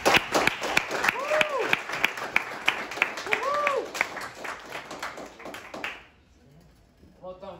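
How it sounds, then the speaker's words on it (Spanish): Audience clapping at a trading event in Puerto Rico, loud and dense applause mixed with crowd noise and chatter, then it cuts off abruptly near the end. "yo quiero un fuerte aplauso para ellos."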